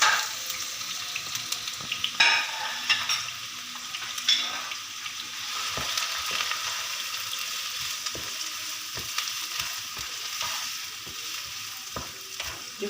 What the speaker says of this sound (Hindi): ये मैं सारी डाल दूंगी। हम इसको फ्राई करेंगे।